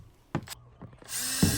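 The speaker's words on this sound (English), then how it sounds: "Drill some holes into this for the compost." Power drill boring holes into a compost bin in a backyard garden, short bursts of bit contact then a rising motor whine that swells loud and steady at the end.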